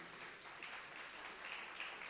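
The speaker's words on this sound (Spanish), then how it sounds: "Un fuerte aplauso para ustedes." Brief applause for new graduates at a pastoral leadership event in La Paz, a faint, steady patter of clapping from a modest audience, swelling slightly toward the end.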